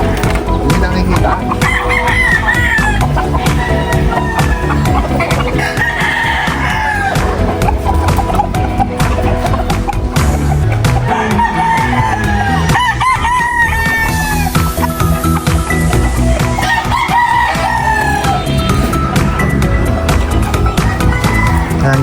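Backyard chickens and roosters cluck and crow loudly during feeding, with repeated crowing calls over a dense, continuous barnyard din and some voices in the mix.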